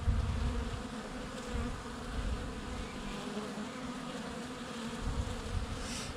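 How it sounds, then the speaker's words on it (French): Bees buzz around the hives of a honey-producing apiary beside the sea: a dense, continuous, close hum of many insects that stays steady throughout, with a soft wash of background noise beneath it. "J'étais bercé par le bruit de la mer et des abeilles."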